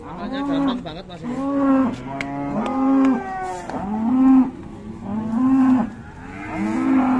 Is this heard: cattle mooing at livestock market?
yes